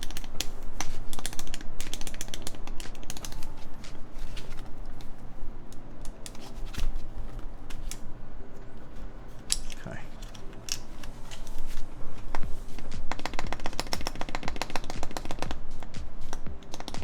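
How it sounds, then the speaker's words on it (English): Keycaps clicking on a Wooting 60HE keyboard during a modding build, irregular bursts of sharp close taps and clacks at typing rhythm, with occasional talk. "I think that's just the sound of the keycap then."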